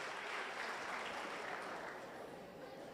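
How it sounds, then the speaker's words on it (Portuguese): Congregation applauding during a church service, a soft, steady wash of many hands clapping at a distance, fading slightly toward the end with no voices on top. "vamos dar uma salva de palmas"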